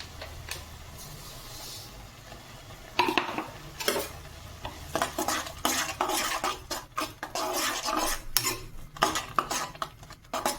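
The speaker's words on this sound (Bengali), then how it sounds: "এইবার এটাকে ভালোভাবে মিশিয়ে জাল দিয়ে নেব" A spoon scrapes and clatters against a pan while semolina mixed with white cumin and pepper is stirred, faint at first, then a busy run of close, irregular metallic clinks and scrapes over a low background hum.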